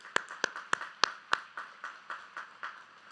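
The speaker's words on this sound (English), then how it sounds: "Give them a round of applause, please." A few people clap at a high school class of 2021 graduation ceremony, with sharp, evenly spaced claps that ring out in a large hall and grow softer and more echoing as they continue.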